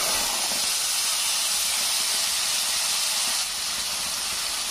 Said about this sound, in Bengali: এবার এই মশলাটা আমি কিন্তু খুব ভালো করে কষে নেব